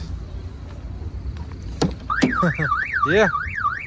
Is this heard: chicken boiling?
no